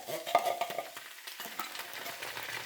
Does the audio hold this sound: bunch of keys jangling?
no